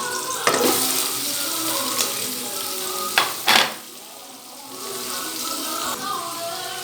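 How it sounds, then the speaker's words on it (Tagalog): Hotdogs sizzling in a pan with onion and garlic for spaghetti sauce, a continuous fry crackle interrupted by a few sharp clatters of utensils, fading briefly before sizzling again. "So, add natin yung hotdog."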